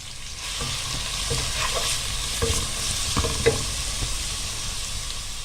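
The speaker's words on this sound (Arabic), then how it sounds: "حاطه هنا حله على النار فيها شويه سمنه، هحط نص مقدار البصل" Onions fry in ghee in a pot over the flame, a constant close sizzle broken by several soft scraping stirs and one small clink.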